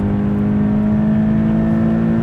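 Sports car engine, a Toyota GT-86, Nissan 370Z or Porsche Cayman, revving out hard and close, its steady droning note held under strong load without a break.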